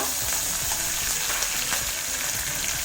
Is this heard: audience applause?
no